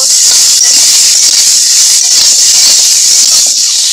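Potato pieces and Malabar spinach stalks frying in oil in a pan, giving a loud, continuous bright sizzle that holds steady without a break.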